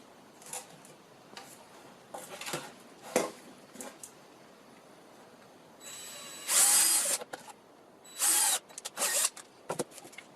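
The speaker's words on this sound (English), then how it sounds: "let's open out the holes with a 4mm drill bit" Short high-pitched whirring bursts of a power drill with a 4mm bit opening out holes in a scratch-built RC Spitfire model plane, starting and stopping several times amid small clicks and handling noises.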